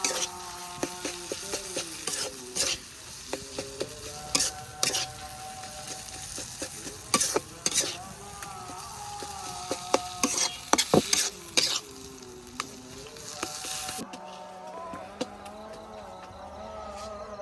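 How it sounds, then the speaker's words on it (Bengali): Potato, eggplant and small shrimp mash being stirred and mixed in a pan, steady scraping and sizzling strokes up close with sharper clatters of the utensil, a continuous background hum and no talking. "ভালোভাবে মিশিয়ে নিই"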